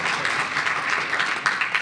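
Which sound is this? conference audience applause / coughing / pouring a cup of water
conference audience applause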